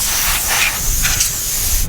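Air blown in short hissing bursts to clear dust off camera gear in the Sahara desert, a steady close spray-like hiss with a few stronger puffs under wind noise.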